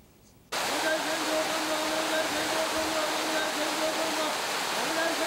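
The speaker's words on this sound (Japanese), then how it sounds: "檜山はお経を読みながら最低でも10分は滝に打たれるのだという" A waterfall used for ascetic waterfall training pours with a loud, continuous roaring rush after a brief quiet start, steady and close, accompanied by a faint low tonal drone.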